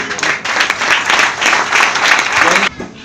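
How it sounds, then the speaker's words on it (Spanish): A church congregation applauds loudly and steadily at the close of a Spanish-language prayer during a worship service, then the clapping cuts off abruptly near the end. "te brindamos un fuerte aplauso"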